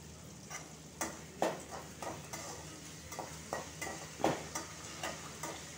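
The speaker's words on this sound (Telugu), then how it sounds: "చూడండి, వేగాయి కదా పచ్చిమిర్చి, కరివేపాకు." Green chillies and curry leaves frying in a pan for semiya upma, a faint sizzle under soft, evenly spaced spatula stirs and scrapes against the pan, close but quiet.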